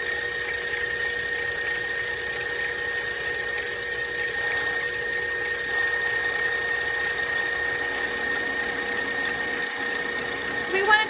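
An electric mixer whips a chocolate soufflé mixture toward frothiness with a steady, even motor whine throughout, a faint voice occasionally under it.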